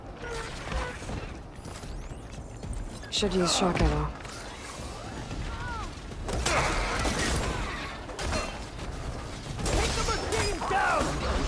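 Hostile machine creatures from Horizon Forbidden West whir, clank and creak with metallic ratcheting and occasional crashing impacts, while voices talk over the mechanical din.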